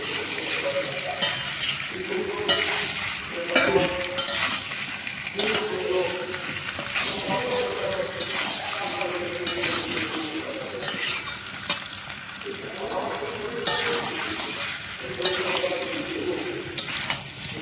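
Chicken pieces and small cut potatoes fry in a pan for a chicken kosha, with a loud, steady sizzle and frequent scraping stirs and utensil clatter close by.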